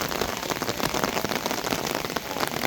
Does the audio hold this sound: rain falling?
yes